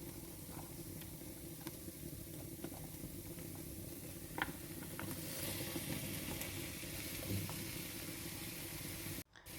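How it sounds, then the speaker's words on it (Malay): Coconut palm heart sautés in a pan, a steady faint sizzle with occasional soft scraping stirs and light clicks, close and quiet, ending with a brief knock. "Kacau-kacau dan tumis sebentar."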